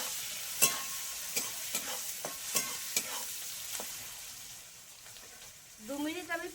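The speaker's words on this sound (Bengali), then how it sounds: "পেঁয়াজ টমেটোটা একটু 2 মিনিট মতো একটু ভেজে নেব।" Chopped onion and tomato fry in a pan with black cumin and slit green chillies, a steady sizzle broken by repeated spatula stirs and scrapes, with a brief voice near the end.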